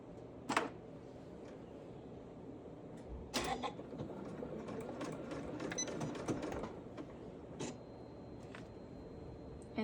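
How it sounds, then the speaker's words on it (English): Steady whirring of a home sewing machine stitching lined fabric for a top, running continuously for several seconds in a quiet room, broken by a few sharp handling clicks. "I'm going to sew right up there."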